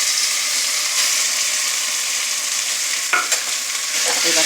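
Sago pearls and chopped banana stem frying in a pan with curry leaves, a steady close sizzle with scraping stirring strokes and a few brighter clinks of the spoon near the end, no voices.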